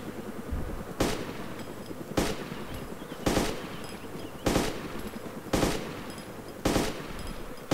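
Bursts of automatic gunfire from the survival game DayZ, loud and close, repeating about every second in short volleys against a steady low background rumble.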